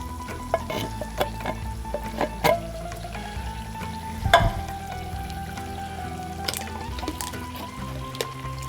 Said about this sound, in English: let's get our tomato sauce stirred in really good